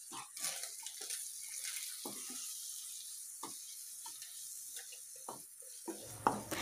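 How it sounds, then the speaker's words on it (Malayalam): Onion and spice masala for a shallot prawn roast sizzles and bubbles steadily in a pan after water is poured in, with intermittent stirring scrapes, close and moderately loud. "ഇനി നമുക്കതിലേക്ക് കുറച്ച് വെള്ളം ഒഴിച്ച് ഒന്ന് പേസ്റ്റ് പോലെ ആക്കിയെടുക്കാം"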